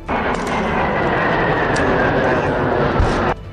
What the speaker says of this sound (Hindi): इस अभ्यास में तीनों देशों के लड़ाकू विमान भी नजर आए